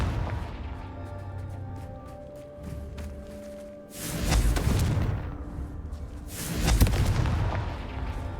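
Confringo fire-blast spell in the Hogwarts Legacy video game, two heavy booming explosions a couple of seconds apart, each loud and rumbling before fading, over a quieter stretch of game ambience.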